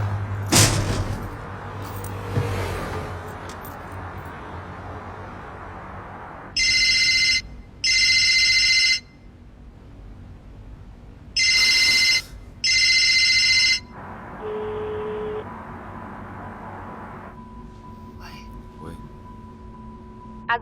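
A telephone rings during a phone call: four bright, loud bursts of ringing in two pairs, each lasting about a second, followed by a lower electronic tone. Thuds and background room sounds come before the rings.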